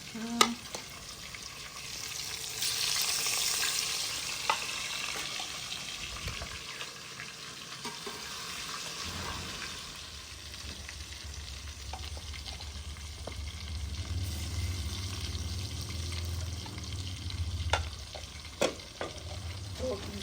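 Fish fries in a pan over a village cooking fire, giving a steady, close crackling sizzle with occasional stirring and scraping noises throughout.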